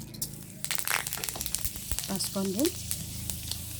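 Panch phoron spices crackle and sizzle as they drop into hot oil in a pan, already used for frying shol fish for a curry, a loud close burst of popping fizz with a person talking over it.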